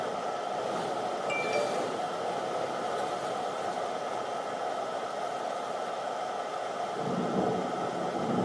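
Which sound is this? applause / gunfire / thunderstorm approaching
thunderstorm approaching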